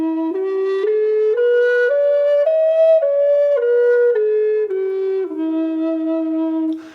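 Native American flute plays a pentatonic minor scale note by note, stepping up from the lowest tone to the top and back down, each pitch sustained and breathy, solo and close with no talking.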